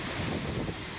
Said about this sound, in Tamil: கிருஷ்ணகிரியில் சூறை காற்றுடன் கனமழை பெய்து வருகிறது.